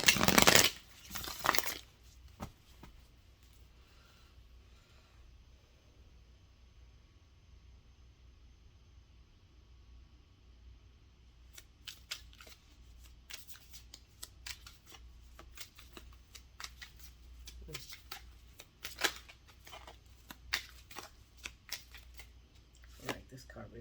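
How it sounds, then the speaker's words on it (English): Tarot cards are shuffled, a loud riffle at the start and then soft, scattered flicks and slides of the cards, with quiet pauses between bursts. "Let's pull your cards"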